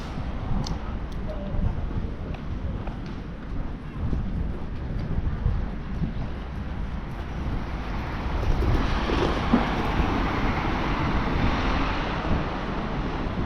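Steady wind buffets and rumbles across the microphone throughout, a continuous low roar with gusts growing stronger toward the end, outdoors in Agadir under threatening rain.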